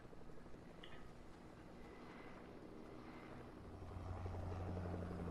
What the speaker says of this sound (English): Get the fuck in the helicopter.